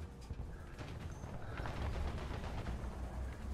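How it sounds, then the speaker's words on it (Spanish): Tank machine gun from a Char FCM 2C bis in War Thunder, a steady dense rattle of rapid fire over the rumble of battle, moderately loud and continuous throughout. "A ver, métele con la ametralladora."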